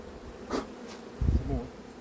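Honeybees from a swarm buzz faintly around a hive as the swarm is being hived outdoors, a low hum with a couple of brief closer fly-bys and some soft handling thumps.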